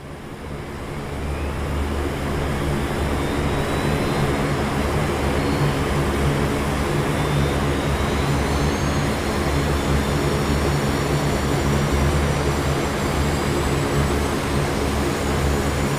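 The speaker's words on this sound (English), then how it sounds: "Let's start engine 2 now." Engine 2 of a Lockheed Martin C-130J Super Hercules turboprop starts up in the DCS flight simulator, spooling up from quiet into a loud, steady turbine roar with rising whine tones.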